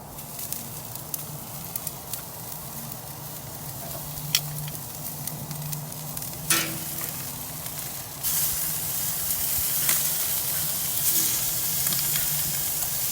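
Steaks sizzle on a Louisiana Grills kamado charcoal grill, a steady hiss with a few crackles, one after another, close by. The hiss swells noticeably louder midway and stays strong.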